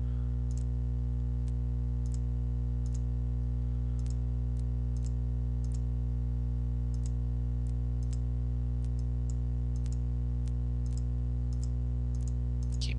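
A computer mouse clicks repeatedly while editing in Photoshop Elements 9.0, sharp light taps at an irregular pace over a loud, constant electrical hum.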